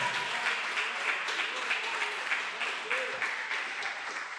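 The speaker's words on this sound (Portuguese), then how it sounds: "Aplauda mais forte ainda." A congregation at a sermon claps loudly and continuously, a dense wash of applause throughout, with faint crowd voices mixed in.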